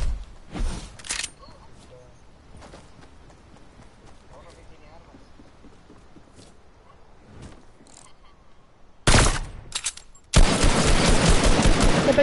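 Gunfire in the Fortnite video game sounds as a few sharp bursts early, then loud, dense shots crackle near the end, with people talking over quieter stretches between them.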